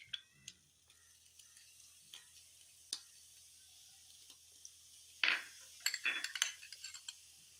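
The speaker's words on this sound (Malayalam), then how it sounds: "മുന്തിരി ഓരോന്നായിട്ട് ഇട്ട് കൊടുക്കാം." Grapes dropped one at a time into a chilled drink with pomegranate, giving a series of small sparse plops and clinks, followed by a brief cluster of splashing near the end in a quiet room.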